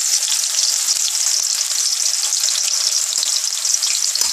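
Stuffed bitter gourds (bharva karela), Punjabi style, fry in a pan with a loud, close, continuous hiss and sizzle of hot oil and occasional small pops.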